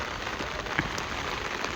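Rain falls on a street in Dhaka, a faint, steady wash of patter with an occasional single drip, distant and even throughout.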